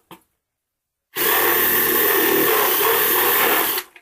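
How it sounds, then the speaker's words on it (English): A power drill enlarges a hole in an old Nintendo Entertainment System console, opening with a brief blip, then going silent before a loud, steady whine that runs for nearly three seconds and stops abruptly. "please make the drill hole bigger"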